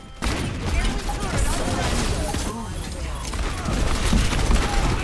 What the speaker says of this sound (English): Using abilities, shooting, the cap sound when you land hits, it's super satisfying.